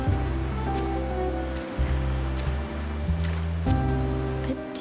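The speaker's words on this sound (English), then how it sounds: "Today's rain feels different. As it falls, the troubles of yesterday are washed away." Steady rain falls in the town of Raguna in a video game, making a dense wash of noise beneath a sustained, tonal musical score that swells and changes chords.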